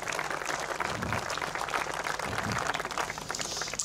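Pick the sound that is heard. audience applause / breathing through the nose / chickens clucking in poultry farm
audience applause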